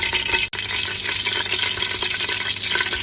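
Whole black pepper, curry leaves, black cardamom and cinnamon pieces frying in a pan for fish curry, a continuous close sizzle and stir with one brief dropout near the start.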